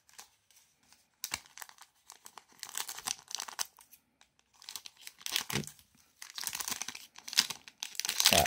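Trading card pack wrappers are torn open and crumpled in several bursts of crinkly tearing separated by short pauses, close up and fairly quiet, with no talking.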